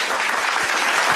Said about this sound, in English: Put your hands together and give a huge round of applause for them.